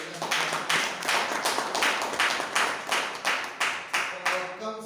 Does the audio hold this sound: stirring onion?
no